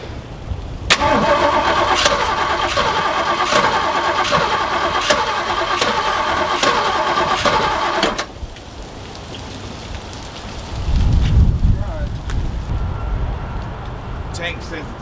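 Starter motor cranking on a Jeep J10 that has sat for years, a steady rhythmic churning for about seven seconds that fails to catch, followed by a low rumble and faint background noise.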